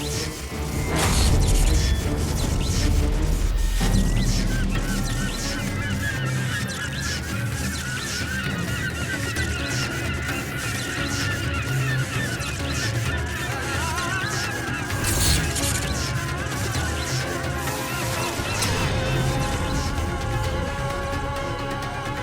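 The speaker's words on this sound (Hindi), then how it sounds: "पक्षी भी भेद नहीं सका इस बाधा को। उससे टकराकर अपने प्राण गंवा बैठा।" A bird honks and crashes into a magical barrier in a mythological TV serial, with a sudden impact early on and then honking calls over dense dramatic music throughout.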